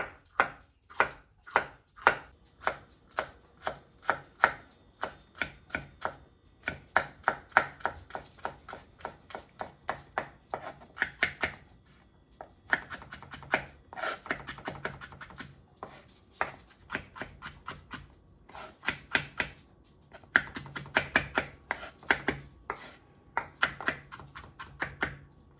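Sweet pepper chopped with a knife on a cutting board for Honduran-style conch ceviche: rapid runs of crisp, close knife strikes in bursts with short pauses between.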